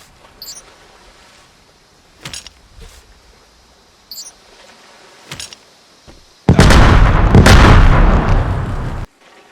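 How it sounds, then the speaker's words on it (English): Contact bombs detonate in the Vigor video game: several short game pops and clicks, then a loud, sustained explosive blast roaring for about three seconds before cutting off abruptly. "I'm going to use these contact bombs and blow myself up"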